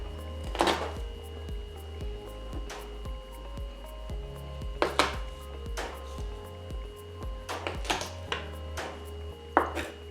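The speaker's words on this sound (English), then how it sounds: "so that's our garlic crushed" A kitchen knife crushes garlic on a cutting board, with repeated sharp thuds and presses spread irregularly over several seconds, close and clear, along with a few light board and utensil knocks.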